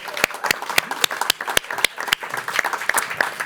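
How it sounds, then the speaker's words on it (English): Audience applause at an artist conversation event in Amsterdam, with sharp individual claps standing out over a steady patter from a modest crowd, loud and close for a few seconds. "one more round of applause."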